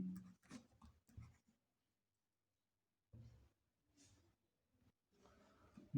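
Pen strokes scratch on paper as a math problem is written out, a few brief, faint, sparse scrapes separated by quiet pauses.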